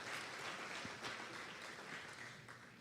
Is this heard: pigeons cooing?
no